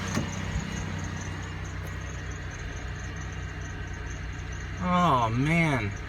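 A vehicle engine idles steadily at low level with a smooth, even exhaust note, and toward the end a voice speaks briefly over it.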